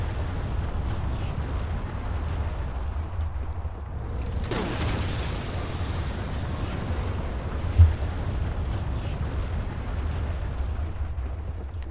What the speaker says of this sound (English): Many nuclear explosions, it seems